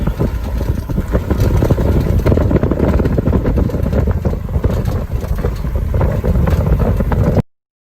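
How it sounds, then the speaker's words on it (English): Strong wind on a blustery hillside morning, buffeting the microphone in a loud, continuous low roar with gusty surges, cutting off abruptly near the end. "another windy morning."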